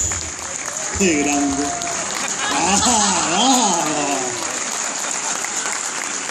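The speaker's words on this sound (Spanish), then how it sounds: "Fuerte aplauso para el Yagua." Applause from a Star Wars fan convention audience in Argentina, cheering for a performer called Yagua and Darth Vader; steady clapping continues throughout while someone speaks briefly over it.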